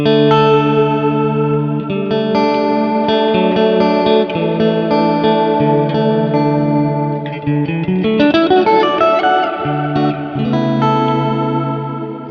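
Sustained guitar chords wash through a shimmering, warbling reverb from a Strymon Nightsky pedal, the notes swirling and pitch-wavering as the modulation deepens, loud and continuous.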